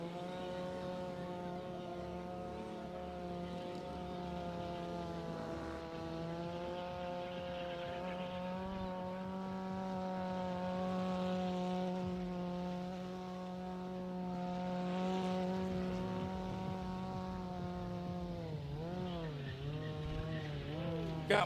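A drift trike and a Honda Grom skid around a dirt drift pit, one engine droning steadily with rising and falling revs and tire scrubbing throughout, heard from a moderate distance.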